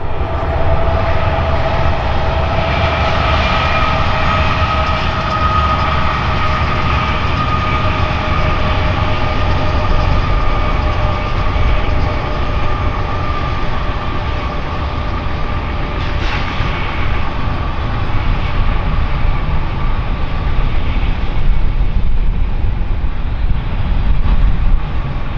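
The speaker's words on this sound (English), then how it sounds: "coming up next is one of the high-priority Z trains that I mentioned earlier" A BNSF high-priority Z freight train rolls past in North Dakota, a loud, steady rumble of wheels and cars on rail that holds for the whole stretch with faint higher squeals over it and no voices.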